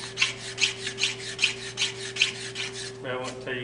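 A hand scraper shaves wood while a turkey call is being made, giving a rhythmic series of raspy strokes about twice per second, close and clear, ending in a brief higher scraping squeak.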